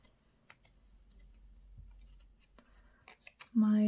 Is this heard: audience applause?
no